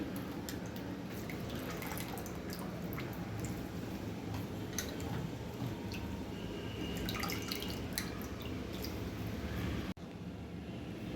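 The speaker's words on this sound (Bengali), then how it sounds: "সয়াবিনটা ঠান্ডা জল দিয়ে ভালোভাবে ধুয়ে এরকম চিপে চিপে তুলে নিতে হবে" Water drips and trickles from washed soybean chunks squeezed by hand in a kitchen, a faint, steady patter of small wet drops and splashes running continuously with no talking.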